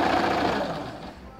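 A sewing machine runs steadily while stitching pinned ladies' pants, a brief close whirring that fades slightly at the end.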